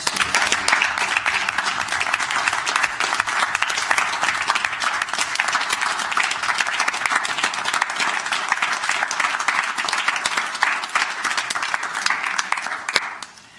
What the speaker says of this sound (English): let's give Dr. Davis a tremendous round of applause